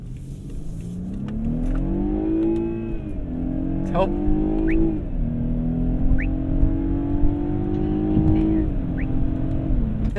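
BMW F10 528i M Sport engine revving hard in first gear, a loud rising drone that climbs, dips briefly and holds high near the limiter, with a short exclamation over it.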